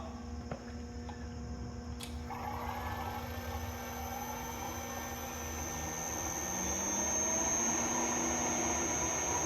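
An explosionproof brakemotor runs on a variable frequency drive at 60 hertz, giving a steady electrical hum and whine that swells slightly after a sharp click, with no voices.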